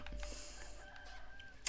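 Chickens cluck faintly in Medieval Dynasty, a medieval village game, with a few soft clucks and short calls over a quiet background.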